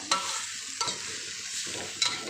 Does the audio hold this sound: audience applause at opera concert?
no